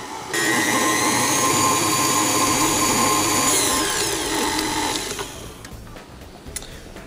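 An electric mixer beats confectioner's sugar frosting for banana cupcakes at medium speed, giving a loud, steady whir that holds for several seconds and then fades and thins out toward the end.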